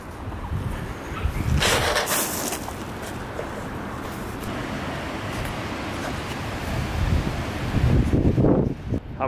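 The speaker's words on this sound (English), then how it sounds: "It's so windy, I hardly have an, should I say it?" Strong gusts of wind, around 45 mph, blow across open winter land, roaring steadily into the microphone with louder buffeting surges early on and again near the end.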